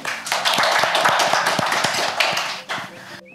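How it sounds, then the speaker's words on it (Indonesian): An audience applauds at a public-sector risk management talk event. The clapping is dense and steady for about two and a half seconds and then tapers off, with a voice faintly underneath. "Sekali lagi, kita berikan aplaus kepada Bapak Adnan."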